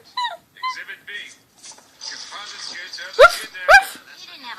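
A young girl imitates puppy sounds, giving a series of short high whimpers and yips, then two louder sharp barking yelps near the end, close to the mic with a little background chatter.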